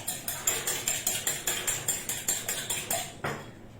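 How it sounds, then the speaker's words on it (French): Two eggs being beaten with a spoon in a bowl: a steady, rapid run of clinking strokes, about four per second, close and clear, ending with a single final tap. "Donc on va mélanger nos 2 œufs."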